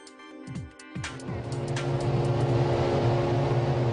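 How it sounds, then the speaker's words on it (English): A pack of Formula 1 cars revs up on the grid at the 2008 Melbourne race, several sharp engine blips at first, then a dense, loud, sustained roar of many engines building and holding. "The sound of 22 cars revving up in the sunshine meant only one thing."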